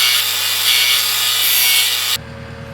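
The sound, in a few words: grinding a part on a milking robot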